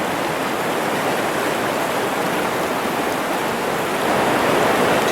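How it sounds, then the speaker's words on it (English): Raging mountain stream in West Virginia, a dense, loud, unbroken rush of fast water heard up close, swelling slightly toward the end with no voices over it. "Water's really raging now"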